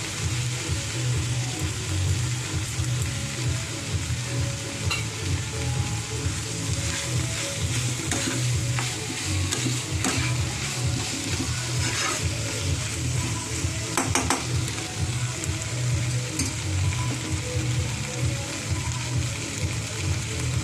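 Steamed green peas tossed into a hot kadai of oil, sizzling and frying steadily while a spatula stirs and scrapes against the metal, with occasional clinks of utensils throughout.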